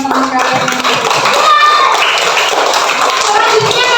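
Schoolchildren in a classroom clapping for their classmates' answers, a loud burst of hand claps mixed with chatter and voices talking over it, close and lively.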